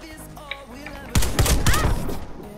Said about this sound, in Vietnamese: Mình cầm súng chính mình bắn.